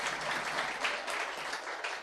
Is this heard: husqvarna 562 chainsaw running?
no